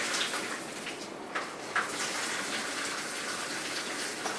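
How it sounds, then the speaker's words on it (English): Boiled green beans tip into a strainer under a steady, close rush of pouring water that runs unbroken for several seconds with small splashy bumps. "Green beans are out. Just putting them into my strainer."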